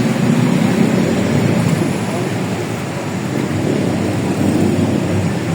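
Heavy rain hammers down with a deep, rolling rumble of thunder beneath it, loud and continuous, swelling slightly near the start and again toward the end.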